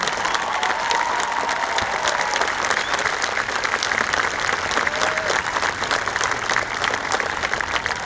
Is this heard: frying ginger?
no